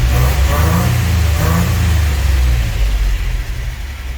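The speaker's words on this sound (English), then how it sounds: "We may as well rev on her a bit, huh?" A 1963 GMC K1000 4x4 pickup truck engine revs up loudly and close by, holding a deep throaty roar before easing off toward the end.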